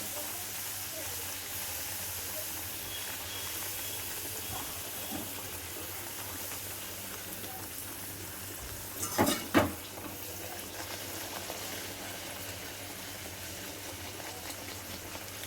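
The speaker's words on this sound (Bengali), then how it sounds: "লাল লাল করে ভেজে নেব।" Food frying in hot white cooking oil gives off a steady, even sizzling hiss for the whole stretch. A brief louder clatter cuts in near the middle.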